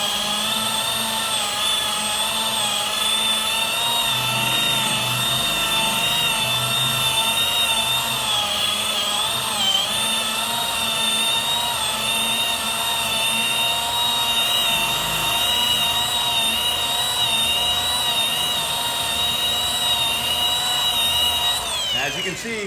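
Car buffer with a wool pad and coarse compound polishing oxidized paint, a loud steady whine that holds unbroken through the whole stretch and cuts off at the very end.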